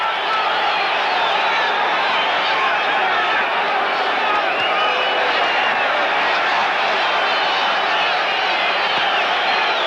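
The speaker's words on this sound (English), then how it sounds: "Crowd here rooting for Vito Antuofermo" Dense arena crowd noise at a boxing match between Vito Antuofermo and Bennie Briscoe, a steady, continuous roar of cheering spectators with a voice talking over it.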